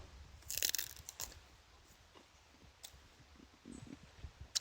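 Crisp crunching bites into a raw, dry quince in an autumn forest garden, a few sharp snaps followed by quieter, close chewing, all fairly faint.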